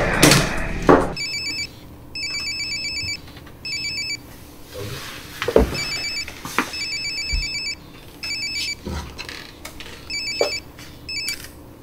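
A telephone rings with repeated electronic trilling bursts in a steady on-off pattern, loud and close, mixed with knocks, movement and other clatter in a room.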